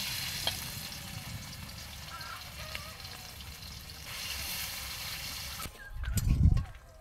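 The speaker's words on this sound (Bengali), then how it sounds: "এবার চিংড়িগুলো ভেজে নেব।" Shrimp coated in salt and turmeric fry in oil in a wok, giving a soft, steady sizzle and crackle, followed near the end by a low, dull thump as the pan or food is moved.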